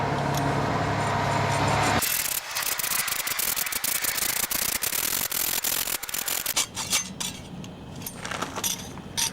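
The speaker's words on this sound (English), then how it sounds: "Get the hacksaw again." A hacksaw cutting through a pipe during a leak repair, fast back-and-forth rasping strokes close by, continuous and fairly loud, with slight clinks as the cut nears completion.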